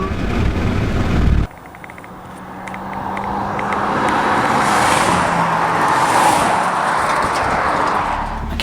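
Mercedes A45 and BMW M135i cars race each other. After a brief loud burst, engine noise swells from a distance into a rising roar and rushing whoosh as the cars accelerate past, then stays strong to the end.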